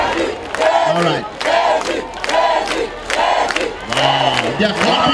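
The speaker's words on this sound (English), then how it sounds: "They are clapping for Jesus." A large crowd at an evangelical healing service claps and cheers in loud, surging waves. Repeated swells of shouting and applause sound close and fill the whole stretch.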